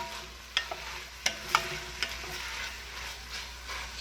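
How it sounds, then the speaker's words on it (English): Vegetables sauteing in ghee in a pan for New England clam chowder, a soft steady sizzle broken by several sharp scrapes and clacks of a spoon stirring, close and fairly quiet with no talking. "we're just sauteing the vegetables"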